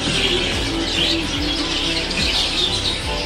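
Budgies in an aviary, chirping and twittering continuously in a dense, overlapping chorus that is fairly loud and close, with no voices present.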